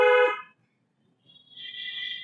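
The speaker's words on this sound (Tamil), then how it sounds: "ஒரு தடவை ஹாரன்." A car horn sounds once in a short, loud, bright blast during a driving lesson. A quiet gap follows, then a fainter, higher tone rises near the end.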